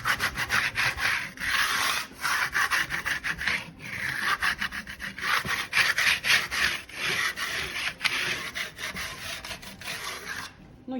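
A trowel polishes Venetian plaster faux-marble finish on a bathroom wall, producing rhythmic close scraping strokes, each a rough swish repeated steadily back and forth with brief gaps.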